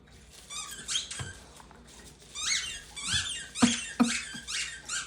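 A squeaky dog toy found outside is squeezed repeatedly in quick, uneven bursts of high, shrill squeaks, with soft thuds and rustling between them.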